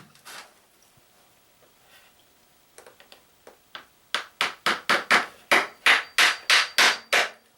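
Hammer tapping old shingle nails into a shower pan during a basement bathroom install, a few light scattered taps, then a run of about ten loud, evenly spaced, ringing blows, close and alone.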